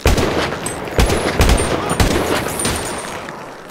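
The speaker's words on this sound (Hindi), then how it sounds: "मेरे को एक बार तो गन चलानी पड़ेगी" Gunfire in GTA V cracks out in quick bursts of loud, close shots, several sharp reports in the first two seconds followed by a denser, fading volley.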